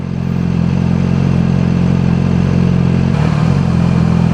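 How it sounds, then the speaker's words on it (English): A motorcycle running with no exhaust fitted roars loudly and steadily up close, with a brief dip in pitch near the end as the revs shift; no one speaks over it. "I hope you guys can hear me pretty well over this the sound of my bike now. I know it's loud."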